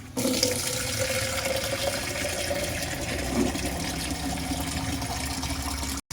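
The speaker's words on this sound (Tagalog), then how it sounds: "then we'll add a lot of water para sabay na pong lumambot yung ating siomai" Water is poured into a cooking pot holding siomai, a steady rushing splash that runs close and unbroken for about six seconds before stopping abruptly.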